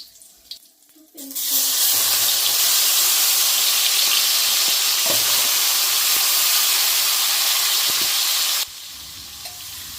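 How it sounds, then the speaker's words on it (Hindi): Dried red chilies and bay leaves dropped into hot ghee, setting off a sudden loud, steady hiss and crackle that holds for several seconds and then cuts down sharply, with a few soft clinks. "घी गरम हो गया, उसमें मैंने 3 से 4 सूखी लाल मिर्ची डाली है, 2 तेज़पत्ता डाला है"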